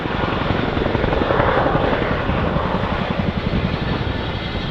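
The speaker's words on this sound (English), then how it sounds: "the aircraft is going to prepare to climb skywards during the Gorney corkscrew, rotating and climbing to 800 feet" A Chinook twin-rotor helicopter climbing in a corkscrew display manoeuvre at an airshow, a loud, continuous rotor thump and engine roar close by throughout.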